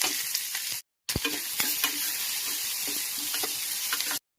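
Onions and curry leaves hit hot oil with popped mustard seeds, giving a loud, dense, continuous sizzle and crackle, briefly cut by a short gap, with no voices.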